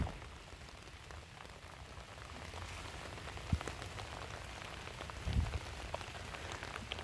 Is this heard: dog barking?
no